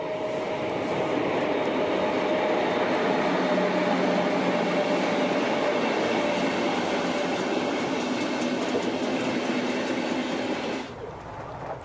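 A Deutsche Bahn class 103 electric locomotive hauls a passenger train at steady speed, its close, loud, continuous rolling rumble with rail clatter holding almost unchanged before easing slightly at the very end.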